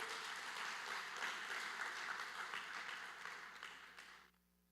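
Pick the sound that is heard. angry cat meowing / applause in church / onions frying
applause in church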